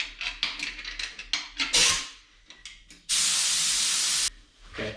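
Spray gun spraying thinned enamel primer paint for a plywood sign, heard as a loud continuous hiss of about a second after several shorter, choppy spray bursts.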